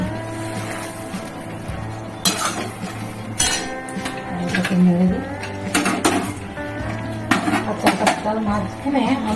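Pumpkin curry tipped into a cooking pot and stirred, with scattered metallic clinks and scrapes of a spoon against the pot over a steady kitchen hum, while someone talks throughout.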